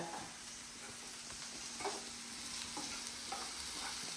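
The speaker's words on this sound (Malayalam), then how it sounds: "ആദ്യം വെളിച്ചെണ്ണ ഒഴിച്ചു അതിൽ നമ്മൾ ജീരകം വറുത്തു" Cumin seeds frying in coconut oil in a pan, a steady close hiss of sizzling with light scraping and stirring taps scattered throughout, no voices.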